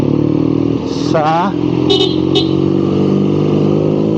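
A BMW R nineT motorcycle rumbles steadily throughout as it is ridden, its low engine drone continuous and close, with someone talking over it and brief higher-pitched tones cutting in.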